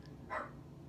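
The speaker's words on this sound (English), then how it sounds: "I'm sorry if you hear my dog barking in the background." One short, muffled dog bark sounds from a distance, faint against quiet room noise.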